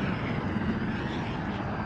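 Spaceship hyperdrive spooling up in Star Wars Outlaws, a steady, loud engine-like roar with a low rumbling hum, constant throughout.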